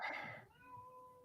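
A person's voice imitates a cat's meow during a sports podcast: a single faint, drawn-out meow-like call, fairly quiet and heard on its own.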